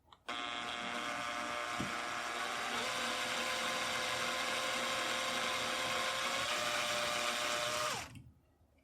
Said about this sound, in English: Then I can drill into it.